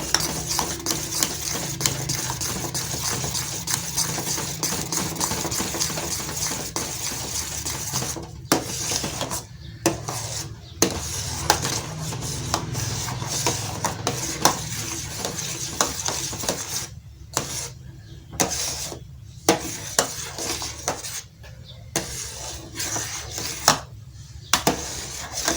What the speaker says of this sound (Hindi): पाउडर वाला दूध इसमें शामिल करते जाएंगे और तेजी से चम्मच हिलाते जाएंगे।